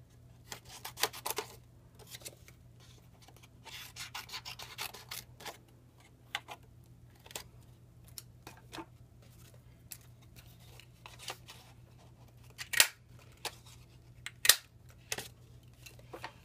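Scissors snip through cardstock to cut out small yellow heart shapes for a Stampin' Up! birthday confetti shaker card, giving a run of close, quiet snips and paper rustles with a few sharper clicks and no talking.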